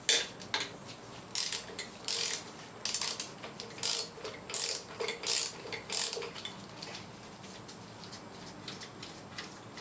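Ratchet being worked on a fastener of a 1994–1997 Honda Accord power steering pump during a leak reseal: repeated bursts of close, crisp clicking in a steady rhythm, with short pauses between strokes and no talking.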